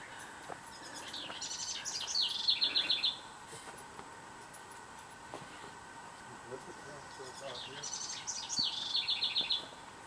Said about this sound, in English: these sweet little birds have taken up residence in one of our bird houses